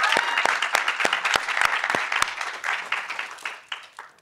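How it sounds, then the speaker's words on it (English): Audience applause for the MC at a Three-Minute Thesis event, with several sharp, distinct close claps standing out over a denser crowd wash, tapering off in the last second. "Can we give you a round of applause?"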